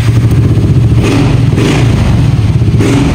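A Yamaha NMAX version 1 scooter engine revs hard to high RPM. The buzzing engine is loud and close and holds steady throughout.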